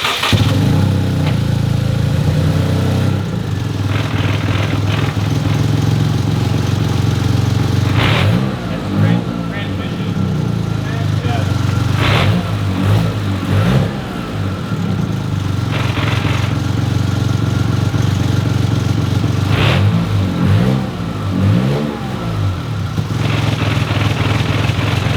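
A modified Toyota GR Corolla being built toward 500 wheel horsepower idles steadily, with several revs rising and falling, and people talk nearby over the engine.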